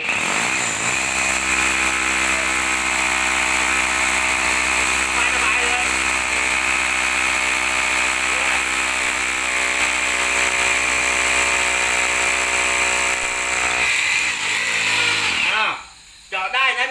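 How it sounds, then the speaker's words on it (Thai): A hammer drill grinds into a floor with a loud, steady, high whine for most of the stretch, then cuts off abruptly near the end. "เดี๋ยวเจาะเดี๋ยวเจาะให้ดู เจาะพื้นนี่นะ"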